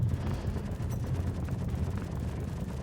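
Spaceship weapons on a Constellation Andromeda in the game Star Citizen fire on a Hurricane, a dense, rumbling stream of rapid low booming shots that continues throughout at moderate volume.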